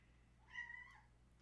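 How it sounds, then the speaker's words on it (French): A domestic cat gives a single short meow, fairly close but soft, over a quiet room hum with no talking. "Excusez-moi, c'est mon chat"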